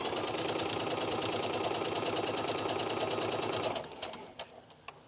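A sewing machine runs slowly and steadily, stitching a long curved seam on an espadrille, its rapid even needle rhythm close and continuous before stopping into a few scattered clicks.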